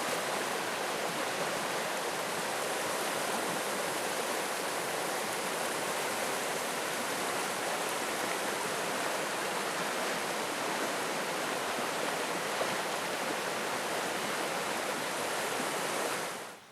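Flowing water of Big Snowbird Creek in North Carolina, a steady, dense rush of stream water running continuously and fairly close with no voices, fading out at the very end.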